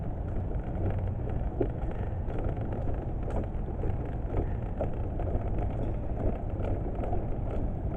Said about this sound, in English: that noise you're hearing is for some reason I bought this